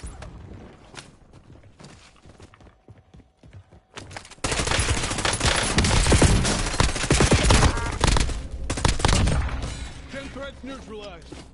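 Hip-fire gunshots in a Call of Duty battle royale, starting with sparse quieter sounds and then a sudden loud, sustained burst of rapid close gunfire lasting several seconds before fading into scattered noise.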